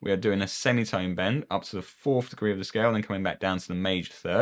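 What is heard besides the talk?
None of the usual background noises is heard.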